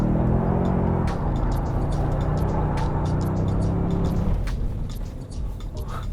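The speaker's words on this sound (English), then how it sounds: "Rolling burnout up the hill on the dirt." A Toyota Sequoia TRD Pro does a rolling burnout uphill on dirt, with a loud, steady engine roar and tire rumble that fades slightly toward the end.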